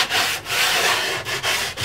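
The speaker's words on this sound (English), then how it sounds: "When I'm sanding, I'll bevel it just a bit, just as I'm going around it" Sandpaper rubbing back and forth along the edge of a wooden acoustic guitar body, beveling it during building; steady, close, loud abrasive strokes with brief pauses between passes, no voices.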